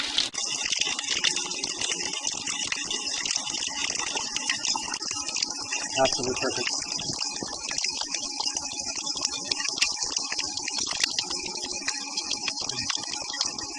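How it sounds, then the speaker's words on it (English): Water gushes steadily from a drainage pipe beside a pool in a constant broadband rush. A voice speaks briefly over the flow. "So we just got some water from the drainage pipe over here."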